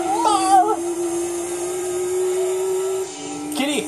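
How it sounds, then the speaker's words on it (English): A house cat meows twice, a short wavering call at the start and a rising one at the end, with a steady droning hum from a Gran Turismo 2 racing game in between. "Oh, this cat."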